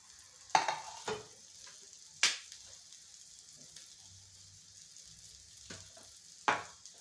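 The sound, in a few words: oil sizzling as it is added to the pan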